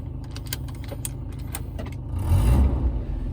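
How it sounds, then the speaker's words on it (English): A steady hiss from the heater control of an original-owner 1990 Volvo 245 with the engine idling, the low rumble swelling briefly partway through, close and continuous with no talk. "Change my heater control so you can hear the lovely vacuum hiss."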